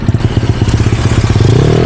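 A Yamaha Mio 160cc scooter engine revs hard during wheelie practice, a loud, close, pulsing buzz with rapid throttle blips that swell and climb in pitch toward the end.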